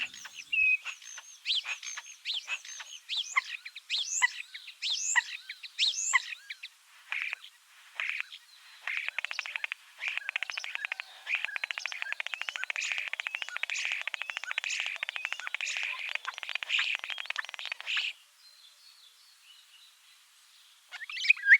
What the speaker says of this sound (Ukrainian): це спів пташок